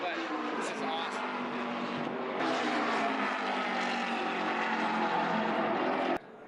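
Several NASCAR race cars run practice and warm-up laps on a track, a loud continuous engine roar that holds steady for about six seconds, with background speech under it, then cuts off abruptly near the end.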